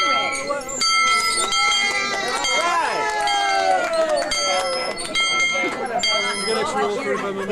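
An excursion train bell rings steadily and loudly, its tones sustained and overlapping, while a crowd of passengers chatters.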